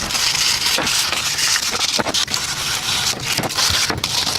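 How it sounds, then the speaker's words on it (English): Sandpaper rubs hard against the steel belt from a bike tire, taking off its zinc or stainless protective layer in a loud, close, continuous rasping scrape with short strokes and no talking. "I'm going to start off by taking a sandpaper to it"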